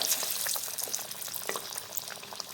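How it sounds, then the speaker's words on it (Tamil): Beetroot masala vadai frying in moderately hot oil in a kadai, a steady sizzling crackle with scattered bubbling pops, close and fairly quiet, with no talk over it. "எண்ணெய் சூடாகி வந்துட்டுருக்கு மிதமான சூட்டில் தான் நம்ம வந்து பொறிக்கணும் இப்போ ஒன்று ஒன்றா நம்ம வந்து சேர்த்துருவோம்"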